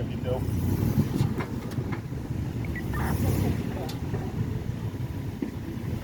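A car backing out onto a road, its low engine rumble steady and fairly close, with outdoor wind and faint background noise.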